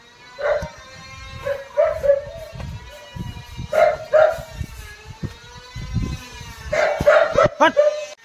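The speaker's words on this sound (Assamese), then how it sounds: "বহুত বাপৰে বাপ পাগলৰ দৰে ভুকি আছে কুকুৰটো" A dog barks wildly and close by in repeated bursts of sharp yaps and whimpers, with voices talking in between.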